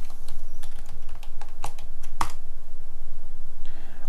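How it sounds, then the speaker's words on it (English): A password is typed on a computer keyboard, heard as a close, quick sequence of distinct key clicks over a low background hum, with a couple of sharper louder keystrokes midway. "Now I need to enter the password."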